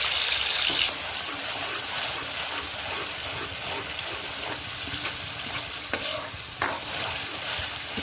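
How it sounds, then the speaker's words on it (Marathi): Ground black masala paste for village-style chicken curry frying in oil in a pan, a loud continuous hiss and sizzle with soft scraping from stirring throughout, close up and without speech. "मसाला असं मस्त तेलामध्ये खमंग परतून घ्यायचा आहे"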